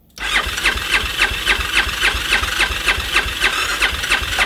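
A cold Suzuki Bandit 650 S motorcycle engine cranks and revs during a compression test, a loud rhythmic pulsing whir with regular beats and no voices.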